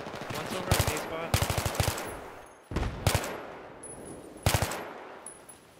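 Loud bursts of rapid machine-gun fire in an infantry-only video game battle, four or five separate volleys in quick succession with short pauses between, no talking.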